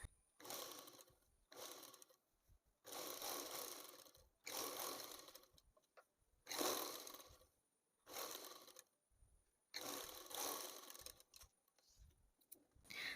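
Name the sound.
sewing machine stitching a churidar slit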